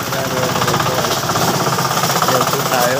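A farm plowing machine runs close by, its engine producing a loud, rapid, jackhammer-like knocking rattle that stays steady and continuous throughout.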